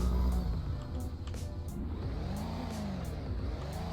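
A BMW X6 driven in the Roblox game Greenville, its engine droning steadily and loud throughout, with revving pitch rising and falling as it accelerates off the line.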